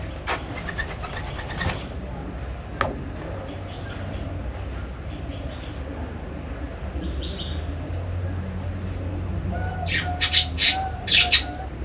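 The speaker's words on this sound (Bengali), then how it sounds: "কবুতর, ঘুঘু" Pigeons and doves kept in a park aviary at Jamuna City Park, Sarishabari, give a few close, sharp calls near the end over a low background rumble and faint clicks.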